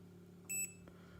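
A Perun AB++ MOSFET installed in a Nuprol Nomad Bravo AK airsoft gun gives a single short electronic beep, faint and brief against a low background hum.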